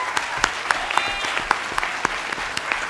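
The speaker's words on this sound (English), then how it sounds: "give them a round of applause" An audience at a school talks event claps in rapid, dense, continuous applause, close and steady for a few seconds.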